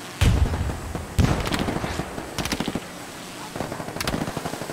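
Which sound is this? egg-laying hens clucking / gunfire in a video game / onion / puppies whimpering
gunfire in a video game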